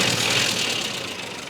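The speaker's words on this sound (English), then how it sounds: "At the moment we're idling at about 700 RPM." A classic Mini engine idles near 700 RPM as a steady, close mechanical drone with a faint rhythmic knock. Its level dips slightly toward the end, and there is no talk over it.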